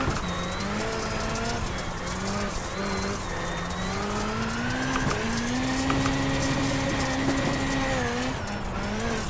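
Racing-simulator car lapping on a triple-screen motion rig, its engine a steady continuous drone that rises and falls in pitch through gear changes, with faint tire squeal, loud and unbroken throughout.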